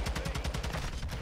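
Rapid gunfire in a tactical shooter game, a dense burst of quick repeated shots in a fast even rhythm, close and fairly loud with no talking.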